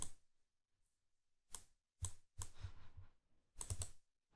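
Computer keyboard typing in short bursts of clicks, close and fairly quiet, with brief pauses between groups of keystrokes.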